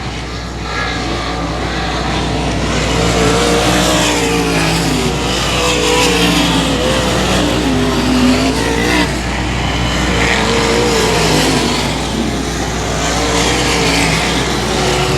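Race cars lapping at 281 Speedway during a Dale Parson Classic and Factory Stock event, with loud continuous engine roar and overlapping revving as the pack passes, building and fading across the whole stretch.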